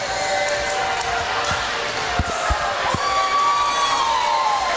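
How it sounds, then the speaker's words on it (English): Fans cheering at an indoor swimming championship for a men's 200-yard breaststroke, a steady crowd roar filling the pool hall with whistles, shouts and a few sharp claps or bangs mixed in. "Fans are on their feet cheering on the men."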